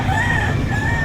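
A rooster crows in one drawn-out call at a busy chicken market behind SM City Lipa, Batangas, with a steady murmur of background noise under it.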